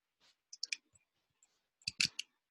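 Calculator keys pressed in quick bursts while an absolute-value expression is being entered, giving a few sharp, close clicks with a short pause before a tighter cluster of taps.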